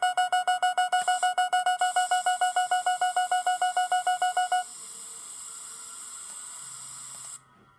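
In the video game Five Nights At Spy's, a loud electronic alarm beeps in fast, steady repetition for several seconds, then gives way to a sustained spray hiss that cuts off abruptly.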